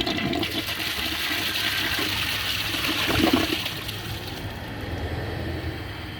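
A 2014 Mansfield Pro-Fit toilet flushes in one continuous rush of water, swelling toward the middle and then tapering into a softer trickle and refill, close and alone.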